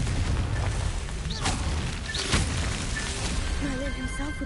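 In the Hogwarts Legacy video game, a Confringo blasting spell explodes with booming, crackling bursts amid dense game ambience, with a voice talking over it.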